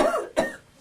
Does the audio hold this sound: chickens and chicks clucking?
no